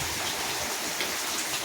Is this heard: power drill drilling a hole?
no